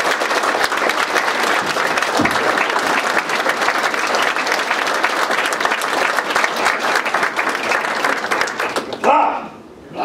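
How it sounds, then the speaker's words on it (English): Long, dense audience applause with many crisp individual claps at a planetarium-style Star Trek show, steady and loud for about nine seconds before it cuts off abruptly. "Please give him a warm round of applause."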